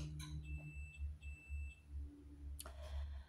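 A quiet oven sounds its preheat signal, a few thin high electronic beeps over a low steady hum, followed by a short clunk near the end.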